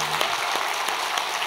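A church congregation at a Christmas festival claps warmly and steadily, giving a dense, even wash of applause from many hands that fills the hall with no voices on top.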